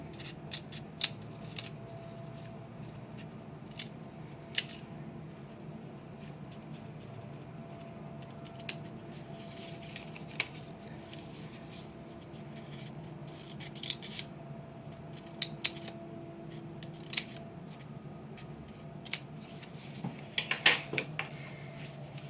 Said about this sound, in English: we're going to take one fold and begin cutting